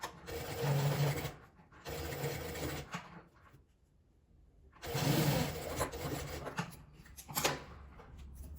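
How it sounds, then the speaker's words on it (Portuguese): Sewing machine stitching around a fabric card purse piece in bursts, two runs of rapid mechanical whirring, a quiet pause, then more stitching, close and fairly soft. "Agora eu vou passar uma costura em volta dela toda."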